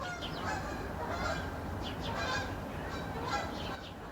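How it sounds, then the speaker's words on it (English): Several geese honking overhead, their calls repeating in short bursts against a steady outdoor hiss, moderately faint and with no talking. "Not sure if you hear that, but the geese right overhead."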